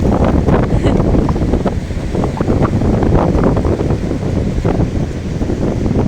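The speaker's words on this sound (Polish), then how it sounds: "Tu fale podpływają." Sea waves wash onto a pebbly beach at Myrtleville as steady wind buffets the microphone, a continuous loud rush of surf and gusts with no clear breaks.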